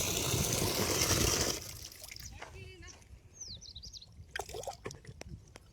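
Cow urine pours in a steady splashing stream for jeevamrut slurry, loud for about a second and a half before stopping, followed by faint bird chirps, small knocks and a voice talking.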